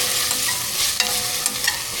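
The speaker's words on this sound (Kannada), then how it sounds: "ಈ ಶುಂಠಿ ಬೆಳ್ಳುಳ್ಳಿ ಪೇಸ್ಟು ಹಸಿ ವಾಸನೆ ಹೋಗೋವರೆಗೂ ಚೆನ್ನಾಗಿ ಫ್ರೈ ಮಾಡ್ಕೊಳ್ಳಿ." Ginger garlic paste stir-fried in hot oil while cooking biryani, a loud, close, dense sizzle with a few quick scraping stirs and no voices.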